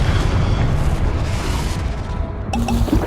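A heavy, booming blast from the Confringo blasting curse in the video game Hogwarts Legacy rolls out loudly and fills the whole moment, followed by a few small chimes at the end.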